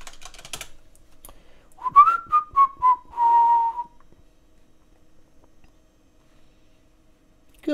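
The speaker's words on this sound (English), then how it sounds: "why do you whistle like that?" A person whistles a short run of clear notes close by, sliding between pitches before stopping, and quiet follows.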